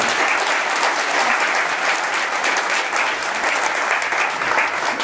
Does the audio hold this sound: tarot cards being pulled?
no